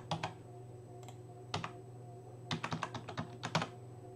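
Keystrokes on a computer keyboard running Archman Linux set to a French AZERTY layout: scattered single clicks, then quick bursts of typing, fairly quiet over a steady low hum.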